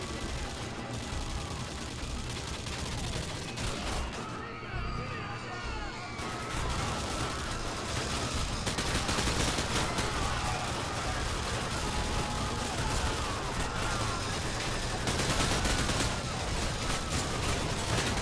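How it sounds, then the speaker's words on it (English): Dense gunfire in Call of Duty Modern Warfare 2 during the No Russian mission, with continuous rapid bursts and loud shots sustained throughout and a voice talking over it. "Are you guys shooting me, bro?"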